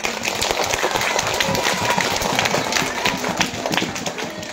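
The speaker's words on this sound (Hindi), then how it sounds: "तालियों से इस्तकबाल भाई" A room of students at a girls' madrasa applauds to welcome a classmate during an Arabic-language event, brisk clapping that runs steadily for a few seconds.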